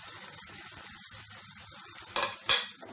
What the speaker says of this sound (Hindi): और मसाले को हम पका लेते हैं अच्छे से भून लेते हैं।